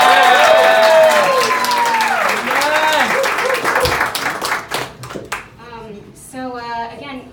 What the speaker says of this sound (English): A round of applause from a beautiful mother.